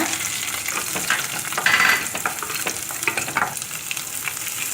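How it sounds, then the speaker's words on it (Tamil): Chopped garlic sizzles steadily in hot oil with mustard seeds, urad dal and curry leaves, a close continuous frying hiss broken by occasional stirring scrapes and pops, with no talking. "வெட்டி வச்சுருக்க பூண்டையும் ஆட் பண்ணி நல்லா வதக்கிக்கோங்க"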